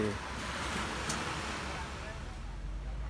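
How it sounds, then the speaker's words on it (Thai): Waves wash onto a beach along the Songkhla seaside, a steady, continuous surf rush heard fairly close, with some wind buffeting on the microphone. "ดื่มด่ำกับบรรยากาศ ริมชายหาดและริมทะเล"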